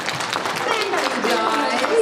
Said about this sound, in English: So let's give a great big round of applause.